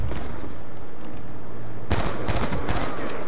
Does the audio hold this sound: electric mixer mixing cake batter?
no